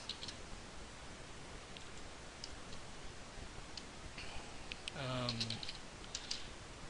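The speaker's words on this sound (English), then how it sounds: "I'm typing on the fly here." Soft keyboard clicks tap out in uneven runs over a quiet hiss, with a brief louder burst of sound near the end.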